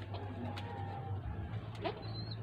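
Racing pigeons coo softly in a loft, a few low murmuring calls over quiet room noise, with a brief higher chirp near the end.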